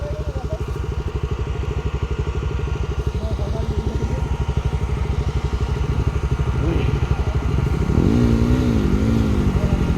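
A scooter engine labours steadily as it climbs a steep snowy mountain road between Tangting village and Krapu Dada, its close, pulsing drone rising slightly near the end as voices briefly join.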